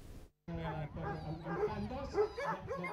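Dogs at a canicross race yip, whimper and bark in an excited, overlapping jumble, fairly close, with people talking underneath.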